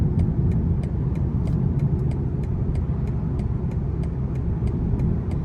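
2025 BMW 228 Gran Coupe in sport mode, a steady low engine rumble heard from inside the cabin with a faint regular ticking running over it, holding even loudness throughout.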